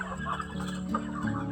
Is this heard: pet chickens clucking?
yes